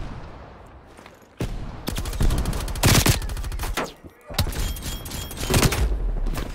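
Gunfire in Call of Duty Black Ops Cold War multiplayer: loud bursts of rapid automatic fire in several stretches, with single shots and brief quieter gaps between volleys.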